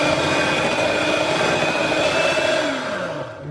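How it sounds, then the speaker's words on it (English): A steady, fairly quiet electric whisk whirs continuously, mixing stevia into a lemon ricotta mousse, its motor tone sliding lower near the end as it slows. "and we'll whisk that in."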